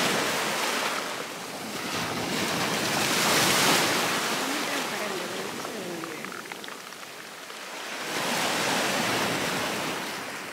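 Sea waves surging onto a rocky beach with only a small patch of sand at Ascea, a loud broad wash that swells twice and recedes between, with steady wind buffeting the microphone throughout.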